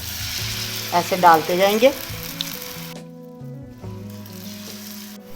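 Batter-dipped egg and potato aloo roll samosas sizzle in hot oil, a steady frying hiss that runs throughout, with a voice speaking briefly near the start before the sizzle continues alone.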